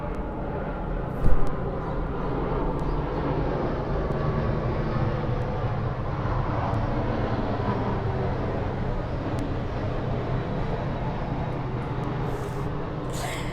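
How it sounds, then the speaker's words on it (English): Airplane flying overhead, a steady broad roar that stays fairly constant and distant-sounding throughout, with a brief bump near the start and no talking. "the plane's up there and it's really loud for me at least"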